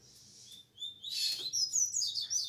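A saffron finch, the canário-da-terra, gives a run of bright, high chirps and trills close by, growing louder after a quiet start, with no talking.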